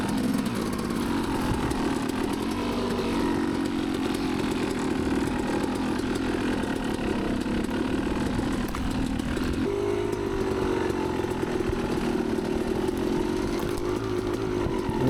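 A dirt bike engine drones steadily and loudly throughout, with a gear or throttle shift partway through, while riding the pine trail sections at Finger Lakes.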